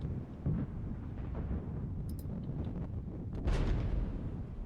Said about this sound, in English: We have artillery fire from down there